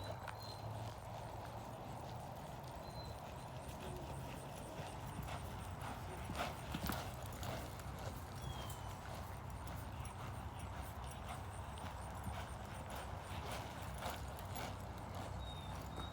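Steady clip-clop of a ridden horse's hooves at a relaxed walk on a loose rein, continuous and fairly close, over a low background rumble with no talking.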